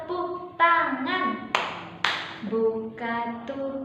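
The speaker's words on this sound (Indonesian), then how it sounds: "Buka tutup, bertepuk tangan" Hands clap during a children's action song, with sharp claps landing between sung phrases in a steady rhythm, close and clear under the singing voice.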